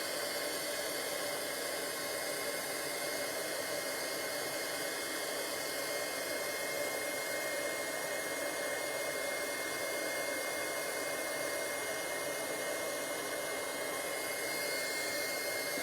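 A heat tool blows a steady, loud hot-air roar without a break while it melts embossing powder on a jar.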